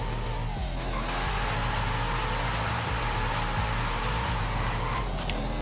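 Stock 2009 Corvette ZR1 engine in Forza Horizon 5, droning steadily at a sustained, fairly constant pitch throughout, loud and continuous with no talking over it.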